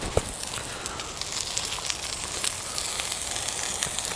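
Brussels sprouts fry in olive oil in a pan over a campfire outdoors, a steady close hiss with fine crackling and a few sharper pops scattered throughout.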